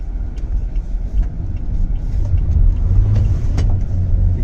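An MG Hector DCT car driving on the road, heard from inside as a steady low rumble of engine and road noise with faint tyre hiss, continuous and fairly loud, with no talking.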